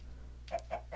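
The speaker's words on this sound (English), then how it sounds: "I know, chickens, it's nice inside." Chickens in the Minecraft video game give a few short, faint clucks in quick succession over a low, steady background hum.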